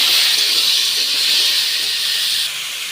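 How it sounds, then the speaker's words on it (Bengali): Potatoes and squash frying in hot oil in a wok, a bright steady hiss of sizzling throughout, close and fairly loud, easing slightly at the end, with no talk. "দেখো আমি আলু আর কোয়াশটাকে ভেজে নিচ্ছি"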